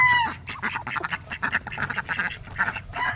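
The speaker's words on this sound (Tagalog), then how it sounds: "Tapos may mga gansa tayo dito. Pato." Farmyard geese and ducks kept behind a backyard fence call repeatedly, a busy overlapping run of quacks and honks at moderate distance with no talk over them.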